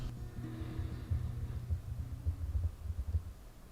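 A pounding heartbeat echoes through the oppressive silence of a cloister, a steady low throbbing thud repeating under a faint hum, fairly close and alone with no talk.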